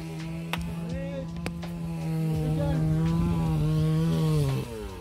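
A Citroën 2CV6 Spécial engine, restarted after four years left outdoors, runs with a steady buzzing idle throughout, while voices talk over it.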